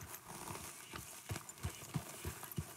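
Horse hooves clip-clop in Red Dead Redemption 2, a steady run of distinct, fairly close thuds roughly every third of a second over soft ambient background.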